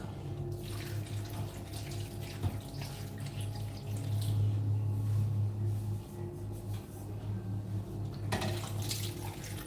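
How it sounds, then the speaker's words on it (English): Water pours from a tap into a cooking pot to make stock in a home kitchen, a steady running splash with a fuller stretch in the middle, heard without speech. "I'd like to add a little bit of water because I need the stock"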